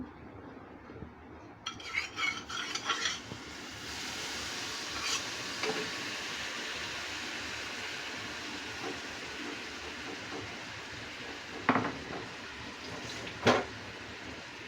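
Sugar and a splash of water heating in a frying pan for caramel give a steady close hiss and sizzle, with a few sharp clinks and scrapes of stirring along the way.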